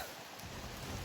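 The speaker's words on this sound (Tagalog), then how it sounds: "malakas talaga ng ulan, hindi tayo makakilos ng maayos." Steady, dense hiss of heavy rain pouring down, a continuous broadband wash with no voices over it.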